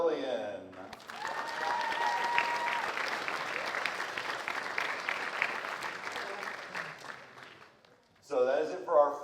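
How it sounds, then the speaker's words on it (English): Sustained applause from a high school concert audience after the freshman choir's spring performance, a dense steady patter of many hands with faint crowd murmur, fading out before a brief bit of talk at the end. "Let's give another round of applause for our freshmen level."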